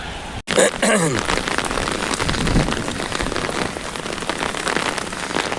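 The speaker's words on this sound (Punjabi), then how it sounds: "ਮੀਂਹ ਹੈ ਜਿਹੜਾ ਭਾਰੀ ਤਬਾਹੀ ਜਿਹੜੀ ਮਚਾ ਦਿੱਤੀ ਹੈ ਮੀਂਹ ਨੇ ਚੰਡੀਗੜ੍ਹ ਸ਼ਹਿਰ ਦੇ ਵਿੱਚ" Heavy rain pours steadily over Chandigarh, a loud dense hiss of drops drumming on surfaces that continues without a break across the whole stretch.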